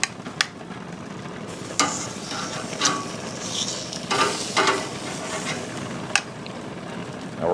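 Sausages laid on a low-set infrared grill sizzle steadily at close range, with intermittent clicks and scraping taps of tongs or metal over the constant hiss.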